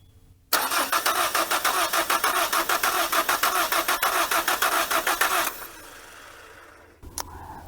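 A 1980 Dodge Colt Challenger with a newly installed carburetor cranks in a rhythmic churn of the starter that lasts about five seconds, then gives way to a quieter, steady hum.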